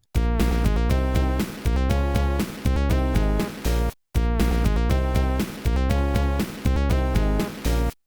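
Bright, punchy Sega Genesis FM-synth music from Sonic the Hedgehog with a driving bassline and repeating melodic phrases, cutting out briefly midway before resuming.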